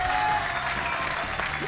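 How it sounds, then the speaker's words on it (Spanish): An audience applauds as politician Rolando Panchana is introduced, a dense, steady wash of clapping from a crowd at moderate distance with faint voices mixed in. "¡Aplausos!"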